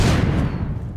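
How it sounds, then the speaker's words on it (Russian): A grenade blast in The Walking Zombie 2, a loud, close boom with a rumbling low tail that fades over a second. "Бросаем гранатку."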